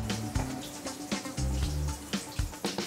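Liquid pouring and gurgling down a kitchen sink drain, a steady splashing wash with bubbling pulses, close and fairly loud, no talking.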